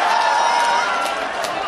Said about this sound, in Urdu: وہ استقبال کیجئے تالیوں کی گونج کے ساتھ سیف بابر کا